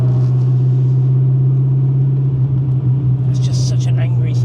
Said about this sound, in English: It's just such an angry sounding engine